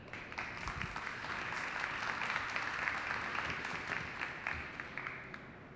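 Applause from a seated audience after a sales talk, an even, continuous patter of many hands clapping at moderate loudness for several seconds without speech.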